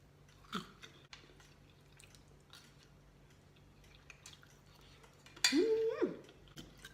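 Someone bites into crispy roast duck skin and chews, giving a few close crunches and mouth sounds, with one louder burst near the end over a low, steady hum.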